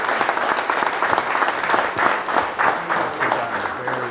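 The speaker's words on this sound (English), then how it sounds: "let's give Dave a big round of applause" An audience at an app founders and investors pitch event gives a startup presenter a round of applause, with dense sustained clapping from a crowd filling the room at steady loudness throughout.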